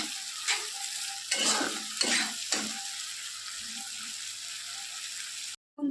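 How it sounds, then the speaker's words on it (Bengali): Chillies and bay leaves frying in butter in a pan are stirred. Several scraping strokes sound over a soft, steady sizzle, and a brief moment of silence comes near the end. "একটু ভালো করে নাড়াচাড়া করে নেব"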